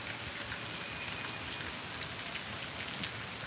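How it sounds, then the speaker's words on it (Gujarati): Continuous rain falls in Jam Khambhaliya, Devbhumi Dwarka, a steady, dense hiss of drops on surfaces that holds at an even level throughout with no voices. "બધી વરસાદ સતત ચાલુ"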